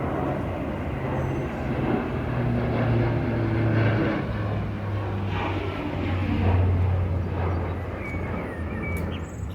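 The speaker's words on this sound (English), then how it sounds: "Transport planes." A low, steady engine drone rumbles overhead, rising and falling slightly in loudness, heavy transport planes passing at a distance.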